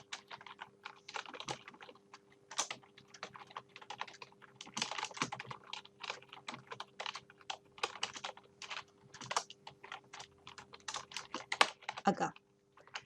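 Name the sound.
typing text on a computer keyboard in WordPad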